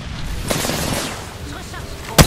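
Rapid gunfire in a battle royale shooter game rattles steadily in the mid-distance, a continuous burst of shots ending with one sharp, loud crack.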